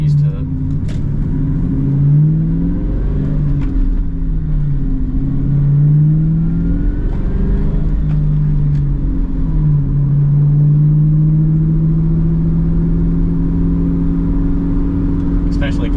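A Ford New Edge Mustang GT V8 rumbling steadily while driving, a deep engine drone rising and falling through gentle revs and shifts, heard from inside the car, with a few faint clicks.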